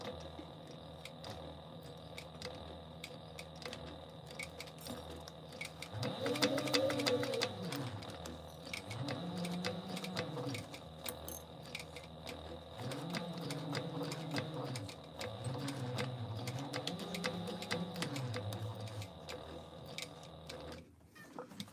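A sewing machine whirs as it winds a bobbin, its motor rising and falling in repeated humming runs at moderate distance, quiet and steady with no talking.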